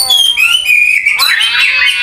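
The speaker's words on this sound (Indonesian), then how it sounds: "Ini untuk cara meningkatkan emosi hanya dengan suara kucing berantem" Recorded cats fighting, played back loud: drawn-out, wavering yowls that rise into a harsh, strained screech near the end, with no other sounds.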